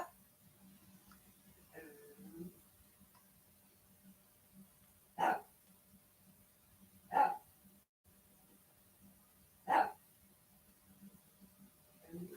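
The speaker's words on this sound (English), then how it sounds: "That dog was barking constantly," Dog barking somewhere nearby, three separate single barks spaced a couple of seconds apart over a low steady hum, with brief faint voice sounds early on.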